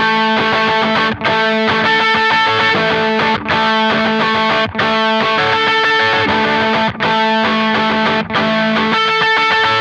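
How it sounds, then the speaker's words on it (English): Overdriven electric guitar playing a bouncing octave riff through an MXR Timmy overdrive pedal with gain high, loud and continuous with brief rhythmic gaps. "The pedal I'm using for this part of the song is actually my MXR Timi Overdrive with the gain turned up to about 3 o'clock."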